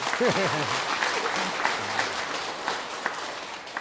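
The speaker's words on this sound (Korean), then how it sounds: "박수 한번 치도 되는데" Clapping from the audience at a Buddhist prayer and wisdom gathering, a steady wash of applause that follows a short stretch of sung or intoned voice and then slowly fades.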